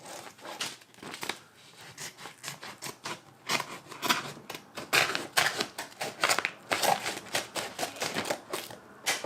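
Scissors cut through sticky transfer paper for car decals, a rapid series of crisp snips and crinkling rustles, close and fairly quiet, with irregular rhythm and no talking.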